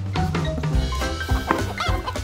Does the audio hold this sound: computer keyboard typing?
no